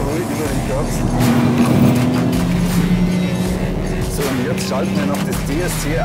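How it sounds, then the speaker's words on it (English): Car driving on a racetrack over the curbs through the Lauda curve, a steady engine drone with road rumble and brief thumps, heard under someone talking throughout. "It's fascinating to feel the car travelling so smoothly over the curbs."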